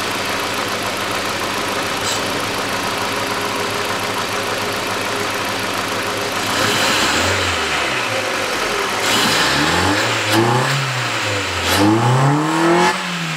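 A Hyundai Accent 1.5 engine runs rough and misfires, knocking unevenly at idle, then is revved several times in rising and falling surges; it is close and loud, with no talking.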